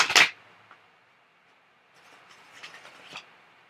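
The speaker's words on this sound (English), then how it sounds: "Alright, so I've shuffled the deck." A tarot deck being shuffled: a quick loud riffle of cards at the start, then near silence, followed by softer rustling and flicking of the cards.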